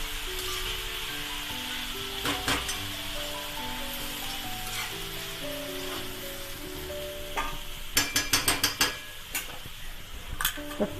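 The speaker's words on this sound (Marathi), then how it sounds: "परतून घ्यायची तव्यामध्ये।" Cowpea vegetable sautéing on a tawa gives a continuous sizzle under scattered metallic clinks and scrapes of a spatula against the pan, with a cluster of sharper taps near the end.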